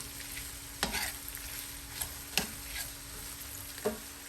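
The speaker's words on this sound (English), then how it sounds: "let me get my big old Cuisinart spoon and stir all of those seasonings into those crackers" A big Cuisinart spoon stirs seasonings into crackers in a bowl, giving quiet scraping and a few soft clunks spaced about a second apart.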